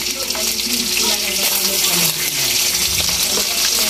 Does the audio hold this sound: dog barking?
no